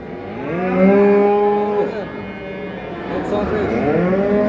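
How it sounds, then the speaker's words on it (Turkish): A Charolais calf at a livestock market in Çorum lets out loud, close, drawn-out moos, one after another, over a murmur of background market noise. "Güzel bir şarole dana var."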